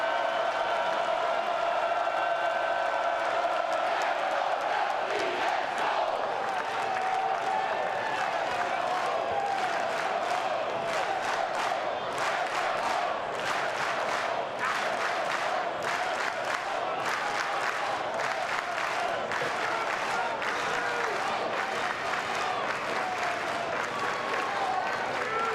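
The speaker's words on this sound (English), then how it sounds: "Crowd becoming a factor. And they're coming alive." Florida State home crowd at a college baseball game against Mississippi State, a steady wash of cheering and applause that builds and stays loud throughout, with scattered claps and shouts in the roar.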